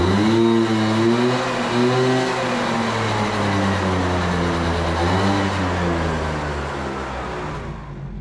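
A moped with a dirty, faulty carburettor revs and bogs down, its engine note rising and sagging in a wavering, uneven drone that stays loud and close throughout, with no talking.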